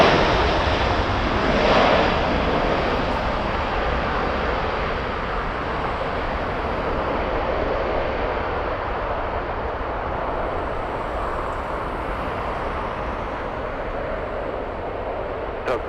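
Boeing Dreamliner airliner departing from LAX, a distant broad jet engine roar that swells early and then holds as a steady rumbling wash, faint and alone.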